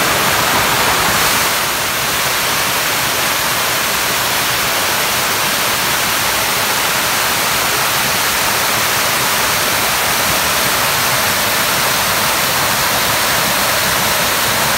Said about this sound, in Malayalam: വെള്ളത്തിന് കട്ടി കുറവായതുകൊണ്ട് നല്ല നൈസായിട്ട് പതഞ്ഞ വരുന്നത്, നല്ല ശുദ്ധമായ വെള്ളമാണ്